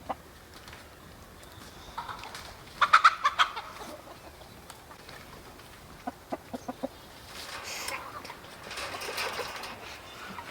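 Splash Maran chickens and roosters in a chicken tractor cluck in short bursts of clustered calls, moderately close, over a steady rustling background.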